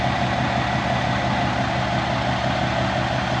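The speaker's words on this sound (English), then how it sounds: "you can hear this truck idling next to me" A steady, loud Ford Super Duty pickup truck engine idle with a low rumble, continuous and close by, with no talking.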